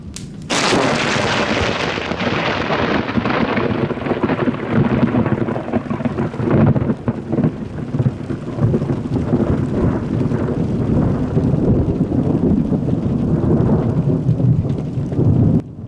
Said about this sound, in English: This bolt of lightning visited the power pole directly adjacent to my vehicle without the slightest heads up